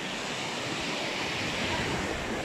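Ocean surf breaks on a warm beach in João Pessoa, Brazil, as a steady, full wash of rushing water with no pauses and no voices.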